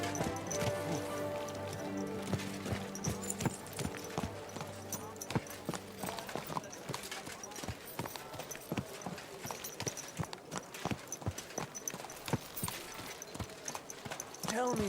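A horse walks with a steady, close clip-clop of hooves striking the ground, the beats sharp and regular throughout, while a voice speaks over the opening stretch.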